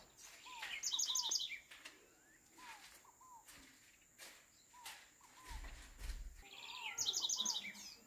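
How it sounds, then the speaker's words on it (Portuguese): Birds chirp in quick bright bursts at the start and end, with scattered softer calls and a steady insect buzz in a quiet outdoor setting near the beach at Guaratiba, Prado, southern Bahia, Brazil. "os barulhos que você ouve são de passarinhos"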